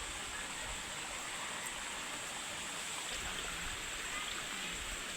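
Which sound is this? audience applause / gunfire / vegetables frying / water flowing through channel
water flowing through channel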